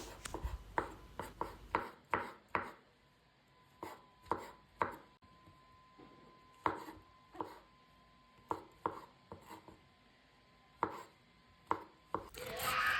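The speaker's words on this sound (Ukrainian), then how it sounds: "Ви можете взяти гриби, які у вас є, і нарізати також дрібненько." Champignon mushrooms are sliced finely with a knife on a cutting board, a series of crisp, close taps in uneven bursts with short pauses between, no talking.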